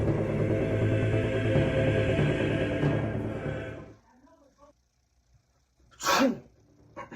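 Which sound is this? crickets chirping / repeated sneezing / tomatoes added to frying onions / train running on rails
repeated sneezing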